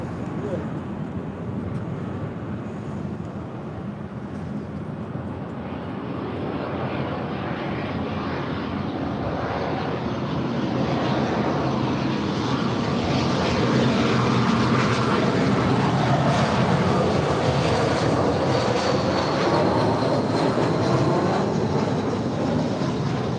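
A ten-year-old Spirit Airlines Airbus A320 from Salt Lake City passes at LAX, its engine noise building from a moderate rumble to a loud, broad roar, with people talking underneath early on.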